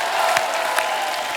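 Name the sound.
audience applause welcoming dancers on a TV show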